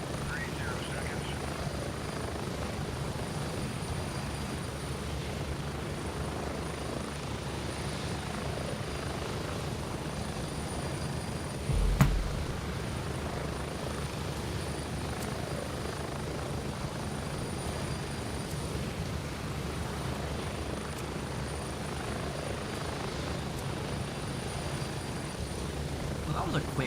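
Aircraft in the video game Gray Zone hums with a steady low rotor-and-engine drone that holds for the whole stretch. One brief thump breaks in midway.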